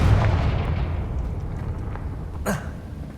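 Confringo spell from Hogwarts Legacy bursting in a deep, rolling explosion that fades out, followed by a sharper crack a couple of seconds later, loud and heard without speech.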